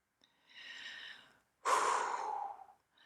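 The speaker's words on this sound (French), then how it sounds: "Inspirez profondément et puis sur l'expiration" Two breaths, a slow airy inhale followed after a short pause by a stronger, louder exhale; close and intimate with no talking.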